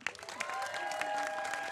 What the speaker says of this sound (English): And with that, can you give a big, huge round of applause to Supervisor Matt Haney?